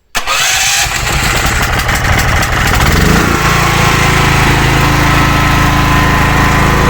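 A Dnipro-M petrol generator cranks briefly, then catches and settles into a loud, steady high-pitched engine drone, running close and alone with no talk.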